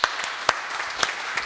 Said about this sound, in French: Et on prend le temps de l'applaudir encore une fois ce matin